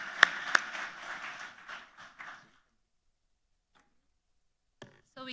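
A conference audience at the East African annual gathering claps for presenters, a brief round of applause with a couple of sharp near claps that fades out after about two seconds into silence, followed by a faint voice.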